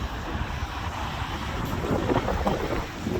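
Gusty wind buffets the microphone in a continuous low rumble and roar, rising slightly toward the end, with no voices.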